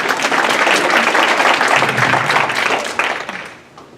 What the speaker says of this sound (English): Round of applause for our transcript.